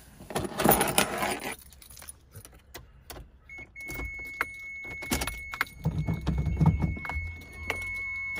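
Keys jangling near a Toyota Tercel car, a bright metallic rattle close up at first, then clicks, thumps and more brief jingles as the keys are handled, with a steady electronic chime tone running beneath.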